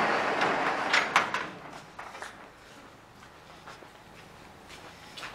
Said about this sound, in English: we'll get these doors all open